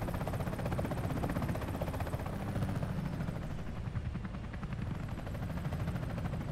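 A Comanche helicopter flies in the combat game Comanche 2020, its rotor and engine making a steady, dense droning whir with a fast rhythmic pulse that holds evenly throughout, fairly close, with no talking.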